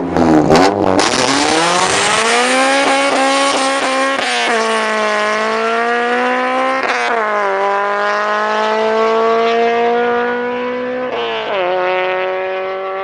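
High-revving engine of a 1992 Honda NSX Type R sports car in Need for Speed No Limits, loud and close, climbing through the rev range with sharp shifts and brief drops between gears.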